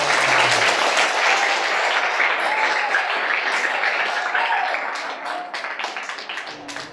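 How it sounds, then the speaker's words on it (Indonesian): A room full of people applauds, a dense wash of clapping that thins into scattered claps toward the end. "Tepuk tangan untuk pesantren dong."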